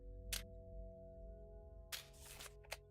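Camera shutter clicks sound in OPUS: Prism Peak: one crisp snap, then after a pause a cluster of two quick clicks and a final short click, each distinct over a faint steady hum.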